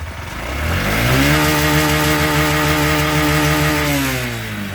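A Honda SP 125 BS6 motorcycle engine revs up and holds a loud, steady growl, then eases off slightly near the end, close by with no talking.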